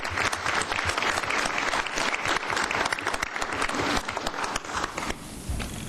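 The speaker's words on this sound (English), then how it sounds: "Let's give him one more round of applause." Audience applause fills a council meeting chamber, steady dense clapping from many hands that carries on for several seconds and then thins out near the end.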